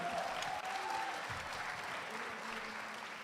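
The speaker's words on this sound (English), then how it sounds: "please a round of applause for our journey" Steady audience applause fills the hall at the closing ceremony of a school debating championship in Vietnam, a dense wash of clapping hands that holds at an even level and thins slightly toward the end, with a faint voice briefly over it.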